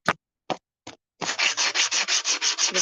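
Sandpaper rubs across a metal sheet in a silversmithing workshop. Three isolated scrapes come first, then a fast, steady back-and-forth rhythm of close, loud strokes.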